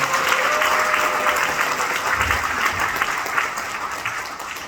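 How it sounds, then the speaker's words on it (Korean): Audience applause at a Korean talk concert in Incheon welcoming the mayor and panel, a dense, steady wash of clapping that holds for the whole stretch without talk over it. "오늘 재미있게 이야기 엮어주실 유정복 시장님과 또 패널분들께 큰 박수로 시작을 해보겠습니다"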